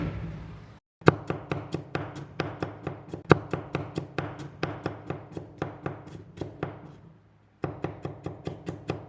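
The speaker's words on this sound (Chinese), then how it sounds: "准备1块姜，拍散后切片" Ginger is crushed, then sliced with a knife on a board in quick, regular chops that fall in rhythmic bursts, with two short pauses between runs.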